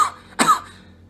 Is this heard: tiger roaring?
no